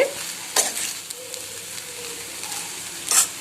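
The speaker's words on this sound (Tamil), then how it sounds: "இப்போ காரத்தூள் சோயா சாஸ் வினிகர் எல்லாம் சேர்த்து நல்லா கலந்து விட்டாச்சு" Chicken fried rice being stir-fried with chilli powder, soy sauce and vinegar, with a loud steady sizzle and a few sharp spatula scrapes against the pan, close by and with no talking.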